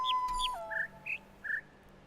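Short synthetic bird chirps from the puzzle game The Witness, several clean whistled tweets at different pitches, some rising and some level, spaced apart over a faint steady tone, no talking.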